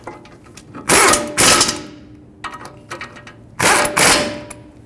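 Ratchet wrench tightening brake caliper bolts on a 2015-2020 Ford F-150, heard as four quick bursts of clicking in two pairs, close and fairly loud, with quieter mechanical ticks between them.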